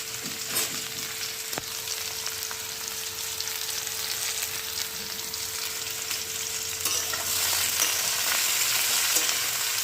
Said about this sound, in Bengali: আলুটা আর ডুমুরটা ভেজে নিলাম